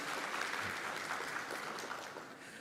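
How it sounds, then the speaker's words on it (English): An audience at a tourism and airlift routes launch event claps for Vincent Boloy, a brief, fairly faint wash of many hands applauding evenly and then beginning to taper off. "could I have a round of applause for Vincent"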